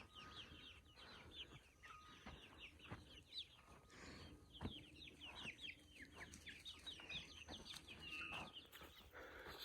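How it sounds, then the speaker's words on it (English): Many baby chicks and hens on a farm cluck and chirp together in a busy, continuous chorus, with scattered clatter and rustling underneath. "We currently have 25 little chickens."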